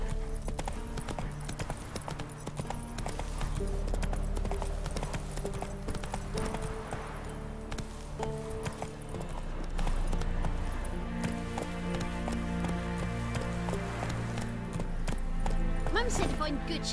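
Roach, a horse in The Witcher 3 game, gallops with steady rapid clip-clop hoofbeats over continuous music and game sound, with voices speaking at times.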